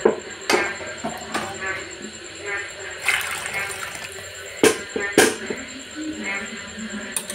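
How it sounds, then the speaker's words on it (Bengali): Water pours steadily into a wok of khichuri made from ration rice, a continuous splashing hiss broken by occasional clanks and knocks, with a voice talking over it. "কড়াটা ভর্তি করে জল দিয়ে দেবো।"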